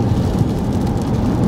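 Rain during a road trip by car through Kalmykia toward Dagestan, a steady, dense hiss of water with a low rumble underneath, loud and continuous.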